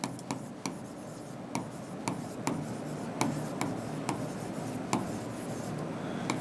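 Chalk or marker writing a definition on a classroom board, with faint rubbing strokes punctuated by sharp periodic taps across a low steady background hum; no speech.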